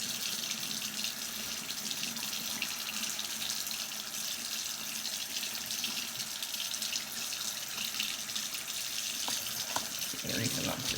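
Water runs steadily from a sink tap while hair dye is rinsed out, a continuous broadband hiss filling the whole stretch with a few small splashes and knocks near the end.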